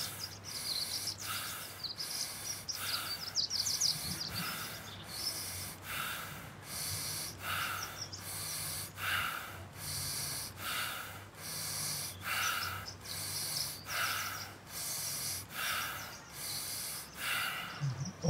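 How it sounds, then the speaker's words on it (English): Deep, active chest breathing in and out, each forceful inhale and exhale close and clear in a steady repeating rhythm of roughly one breath per second, sustained throughout. "let's start actively inhale and exhale in your chest"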